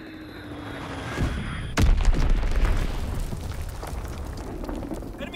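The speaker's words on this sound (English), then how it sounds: "Enemy bomb incoming." A bomb explosion booms through the Call of Duty WWII battlefield, a heavy blast landing about two seconds in over ongoing combat noise, with crackling debris and rumbling gunfire continuing afterward.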